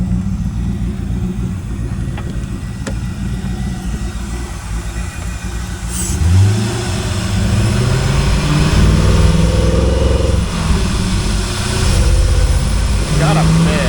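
A 1999 Chevrolet Corvette C5 with an LS1 engine, worn and with a torn roof, idling steadily nearby, then a brief rev rising and settling into a louder run, with someone talking over it.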